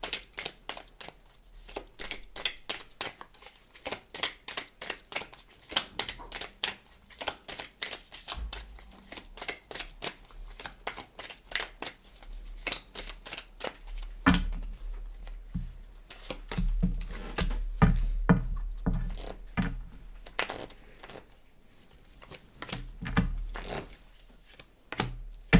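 Tarot cards are shuffled continuously by hand at close range, giving a rapid stream of crisp riffling flicks and soft slaps with brief pauses.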